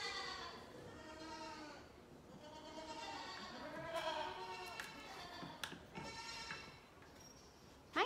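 Baby goats bleating in the morning on a goat farm, several overlapping high quavering cries in quick succession, close and fairly soft, with a voice speaking over them.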